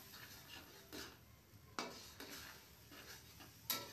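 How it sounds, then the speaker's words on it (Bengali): Spice masala with tomato paste being stirred in a pan for a cauliflower curry, soft scraping strokes and occasional utensil knocks against the pan over a low sizzle, no talk. "সুন্দর করে মিশিয়ে আমি মশলাটাকে একে একে কষতে থাকব"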